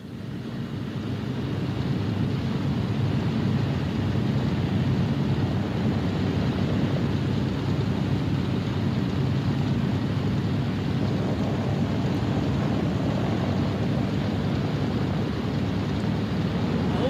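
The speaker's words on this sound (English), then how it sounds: "Only the roaring engine sound of the bombers pounding through the quiet English countryside." A steady, heavy roar of WWII bomber engines drones on without a break, low and rumbling, with a windy wash over it and no other sounds.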